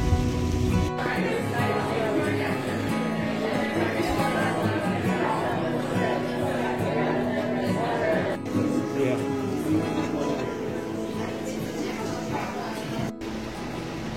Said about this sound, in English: Man, it's raining so hard